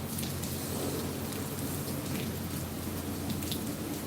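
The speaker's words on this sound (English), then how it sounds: "it's fucking raining and it's cold" Rain falling outdoors on a cold evening beside a council building, a steady, even hiss of dense rainfall close to the microphone, with no talk.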